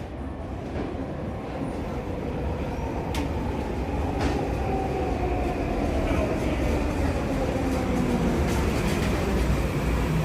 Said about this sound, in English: Surrey bound King George train arriving in a minute